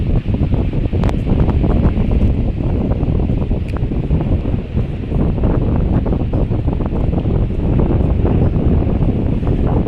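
Loud, relentless wind gusts batter the microphone with heavy rumbling buffeting throughout, never letting up, on a swaying bridge at Attabad Lake in Hunza Valley, Pakistan.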